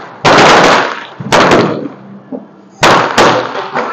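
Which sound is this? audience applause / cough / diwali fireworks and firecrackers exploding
diwali fireworks and firecrackers exploding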